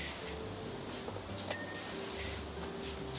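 A pressure washer sprays continuously in PowerWash Simulator, a steady broadband hiss of mist and water that holds at an even level throughout, with a brief sharp click midway.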